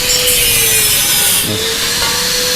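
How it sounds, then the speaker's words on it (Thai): A loud, steady grinding rasp of steel being cut for a motorcycle engine mount bracket, with a sustained whine that shifts slightly midway, close and continuous. "ตัดเหล็ก หูเครื่องนะครับ ที่จะจับกับตรงนี้"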